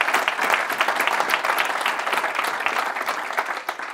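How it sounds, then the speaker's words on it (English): Lively applause from the audience at the BSides Lisbon 2017 security conference, a crowd of many hands clapping in a dense, fairly loud, slightly pulsing burst lasting several seconds with no speech over it. "round of applause for those guys who did keeping this"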